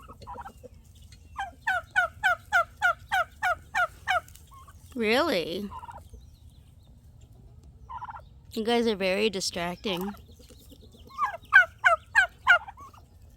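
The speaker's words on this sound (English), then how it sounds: "I love my turkeys." Pet turkeys, including a white hen, gobble nearby in rapid, trilling bursts and fast repeated clucking calls, with someone briefly talking between the calls.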